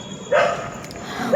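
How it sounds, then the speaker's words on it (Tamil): A dog yelping and barking outdoors, a couple of short distant yips over steady background hiss, moderately loud. "வெளியே வந்து நாய் கத்துது, அதான் அந்த சத்தம் கேட்குது உங்களுக்கு பேக்ரவுண்டில்"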